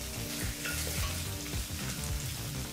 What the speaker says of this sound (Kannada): ಈಗ ಒಂದು 30 ಸೆಕೆಂಡು ಇದನ್ನೆಲ್ಲ ಫ್ರೈ ಮಾಡ್ಕೋಬೇಕಾಗತ್ತೆ.